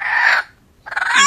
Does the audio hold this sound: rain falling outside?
no